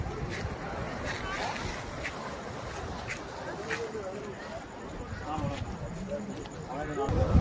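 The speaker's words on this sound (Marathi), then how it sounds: "समुद्राच्या लाटा अशा खवळलेल्या आहेत." Rough sea waves crash and wash at Kanyakumari at night, a continuous, roaring surf rumble heard under people talking.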